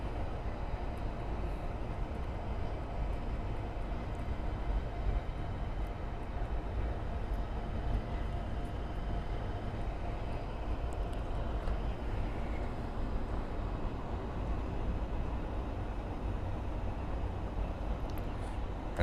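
Six-year-old Airbus A321neo jet airliner, American flight from Newark, passing at an airport as a steady broadband roar with heavy low rumble, holding constant and loud throughout without talk.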